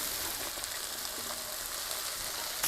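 Cabbage stirred in a pan over maximum heat, cooked with fried mushrooms, giving a steady soft sizzle with faint scraping under it and no talk.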